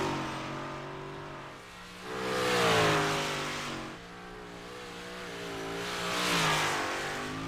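A UMP modified race car runs a qualifying lap on the Eldora dirt track, its engine roaring loudly as it sweeps past twice, with revs rising and falling through the corners and no talk over it.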